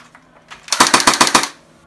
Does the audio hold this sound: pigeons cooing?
no